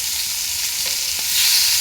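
Fish frying in hot oil in a home kitchen gives off a steady, close, hissing sizzle that swells slightly louder toward the end, with no talking.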